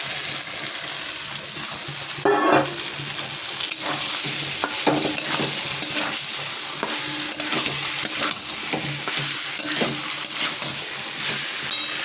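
Egg and cauliflower with green chillies fry and sizzle in a pan, with repeated scraping stirs of a spatula over a steady hiss, close and continuous.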